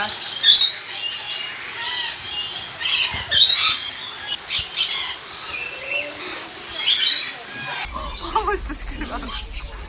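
A pet parrot gives several loud, sharp squawks close by, repeated at intervals among softer chirps, while people talk nearby.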